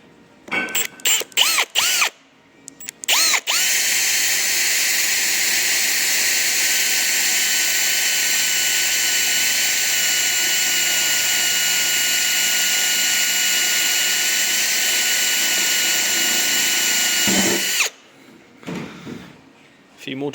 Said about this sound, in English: Got them up, so now I just need to drill them.